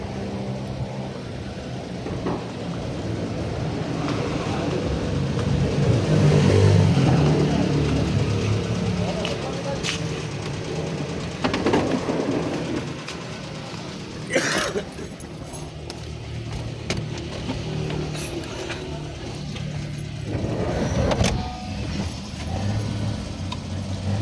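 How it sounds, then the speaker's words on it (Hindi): A high-roof van arriving along an unpaved hill road, rattling and clattering with scattered mechanical clicks and knocks, while people talk over the noise. "ये हमारी गाड़ी आ रही है हाई रूफ, इसमें जाएंगे हम लोग"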